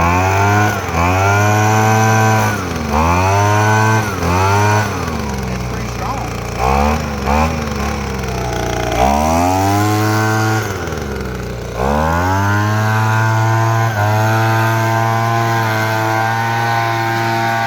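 A PROYAMA gas-powered leaf blower engine runs loud and close, revving up and down repeatedly in rising and falling surges before holding a steady high whine.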